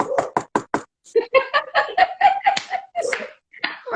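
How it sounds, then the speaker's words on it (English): Knocking on a door: a quick run of five sharp, loud knocks at the start, then voices talking and laughing with a few more knock-like hits mixed in. "They come knocking on my door."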